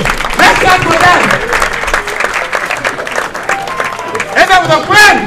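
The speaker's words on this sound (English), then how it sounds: "Can we clap for them? Let's clap for them!" Audience applause for performers at a Nigerian Nollywood film scene, dense continuous clapping mixed with crowd cheers and voices, loud and close, swelling again toward the end.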